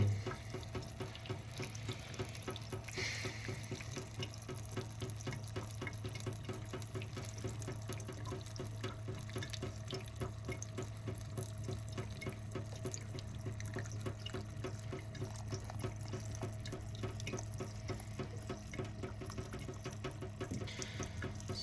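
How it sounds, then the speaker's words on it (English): Filtered tap water running steadily into a crockpot for beef stew, a continuous splashing fill that carries on evenly from start to finish, close and moderately loud with no talking. "I'm just gonna add in water. We're just gonna watch it as it comes up."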